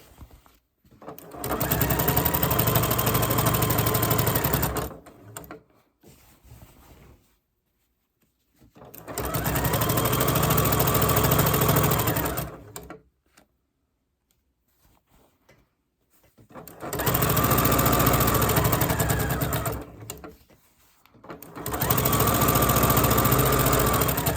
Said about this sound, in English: I like to use my walking feet when I'm sewing binding because it helps to feed all these layers of fabric through my machine.